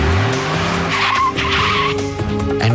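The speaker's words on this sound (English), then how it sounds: "Elena and Mark will have to do a handbrake turn." A car spins through a handbrake turn on a driving course, its tyres skidding and squealing loudly over a revving engine in one sustained slide.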